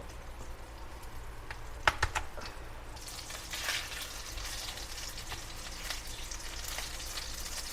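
Food fries in a home kitchen pan with a steady bright sizzle that swells after a couple of sharp clatters, holding on continuously at a moderate level with no talking over it.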